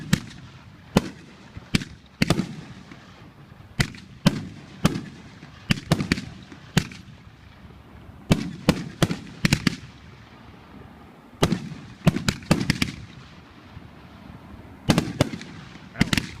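Fireworks shot off at a Shocktober 2013 event, a long irregular string of sharp bangs and pops, some in quick clusters, others spaced apart, over steady background rumble.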